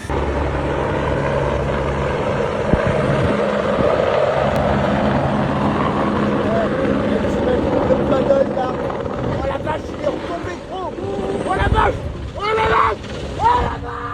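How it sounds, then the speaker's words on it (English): An H-125 helicopter hovering to scoop water from a lake during a wildfire, a loud continuous rotor and engine roar that swells and wavers toward the end, with a voice talking over it. "This clip shows a H-125 helicopter attempting to scoop water from a lake to combat a massive wildfire."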